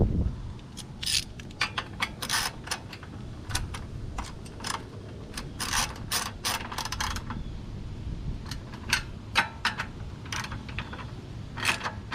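8mm head bolts being tightened on a gas generator while a pull start rope is replaced. Sharp metallic ratchet clicks and tool taps come in irregular bursts close by, with quieter handling noise between them.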